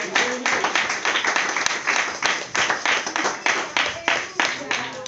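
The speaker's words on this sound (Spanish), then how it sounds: "Denle un aplauso a Cristo en esta noche" A church congregation claps steadily and loudly in worship, dense applause with a rhythmic pulse, voices mixed faintly underneath.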